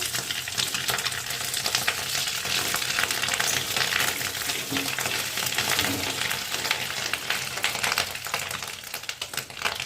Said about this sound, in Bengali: আস্তে আস্তে মাছের ডিমগুলো ভেজে নেব।